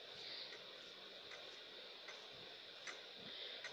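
A steady, faint clock ticks in a video game, its regular clicks set over a constant hiss of background noise, with no voices.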